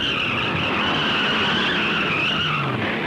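Ford stock race cars skid at more than 100 mph on an oval track, a sustained, loud tire screech with steady high-pitched squealing and engine roar lasting throughout, close and continuous.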